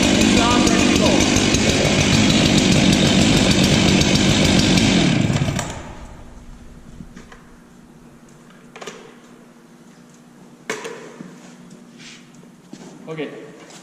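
A chainsaw roars loudly and steadily for about five seconds after its chain brake is released, then cuts off, leaving quieter handling clatter and occasional knocks.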